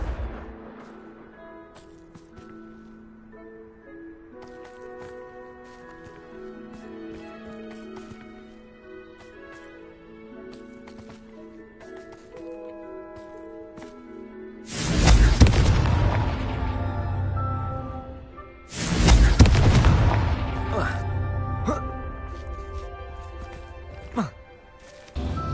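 Confringo blasting spell explosions in Hogwarts Legacy: two loud, close booming blasts with crackling tails rise over quieter game music, followed by a smaller burst near the end.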